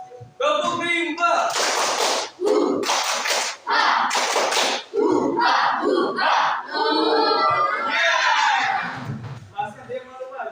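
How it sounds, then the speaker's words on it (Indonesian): A group performs the 'tepuk rimba' rhythmic clapping chant, loud unison voices shouting in bursts with sharp rounds of claps in a close, lively room. "Tepuk rimba."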